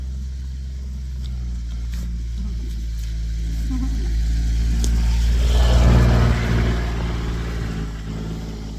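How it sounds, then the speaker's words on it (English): Truck driving along a park road, its low engine rumble growing louder as it approaches and passes close by, then fading slightly, with faint background sounds. "There's a truck coming through."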